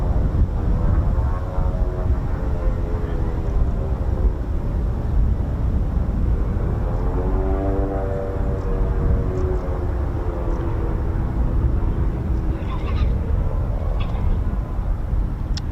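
Texan training aircraft of the Swift Flight drone overhead in a loud, continuous roar with a slowly sweeping pitch as they pass, heard alone without talk.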